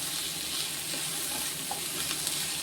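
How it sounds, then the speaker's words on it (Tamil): Ginger sautéing in a small amount of oil for chicken samosa filling, a steady soft sizzle and crackle running throughout with faint stirring clatter, close and continuous with no talking. "இதை நல்லா அந்த இஞ்சி வாட போகிற அளவுக்கு வதக்கிக்கிறணும்"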